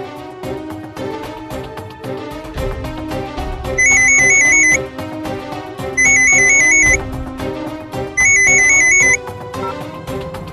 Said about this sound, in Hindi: अवंतिका को फोन करती हूँ मैं